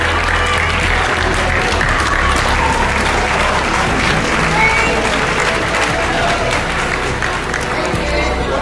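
A hall-of-fame audience rises for a standing ovation, dense steady applause filling the room continuously at an even loudness throughout.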